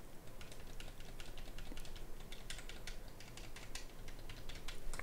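Buttons on an official Xbox 360 controller are pressed in quick succession, giving a dense run of soft plastic clicks heard close up and fairly quiet, with no talking.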